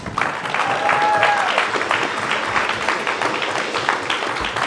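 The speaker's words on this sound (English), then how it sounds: "Can we give Lauren a round of applause?" Applause from a church gathering after a woman named Lauren shares her story, a steady wash of many hands clapping at close range that holds evenly throughout, with faint crowd murmur underneath.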